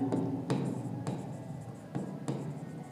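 Chalk or a marker writes on a board during an accounting lesson, making a few short scratchy strokes against a steady room background.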